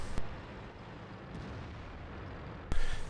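A tank cannon shot strikes the lower glacis of an enemy tank in a video game, one sharp booming impact near the start and a second heavy blast near the end, with a low rumbling battlefield background between them.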